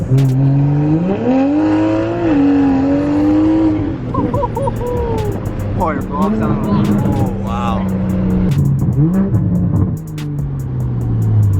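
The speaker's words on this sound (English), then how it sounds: "this thing is the fastest car I've ever been in" Engine of a very fast car roars and revs hard during a ride-along, a loud rising drone under near-continuous excited talk from the passengers.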